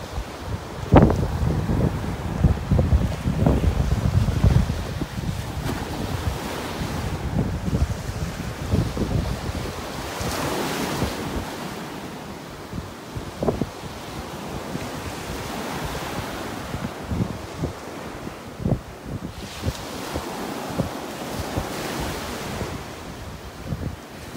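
Surf rolls in on a beach in North Naples, Florida, with steady wind buffeting the microphone. Waves break and wash in repeatedly, loud and close, with no voices.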